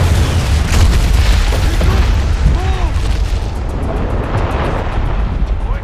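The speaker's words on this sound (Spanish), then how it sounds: "Explota, ¿verdad, po?" Deep booming explosion rumbles from the video game Far Cry 4, loud and continuous, with a voice speaking faintly partway through.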